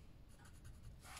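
A pen scratches a short line across a paper card, a quick dry scribble heard up close and alone.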